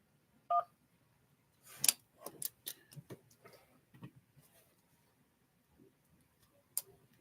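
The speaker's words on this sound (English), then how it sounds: "Please wait while we connect the call to a second person." A phone call is dialed and placed: a short keypad tone, then a string of faint clicks and ticks while the line connects, quiet and close with no talking.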